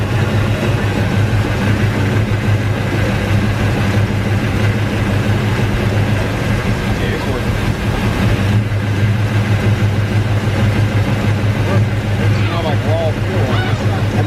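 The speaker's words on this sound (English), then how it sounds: "Exhaust leak. Not a lot." A car engine with a small exhaust leak idles loudly and continuously with a rough, puttering exhaust rumble throughout.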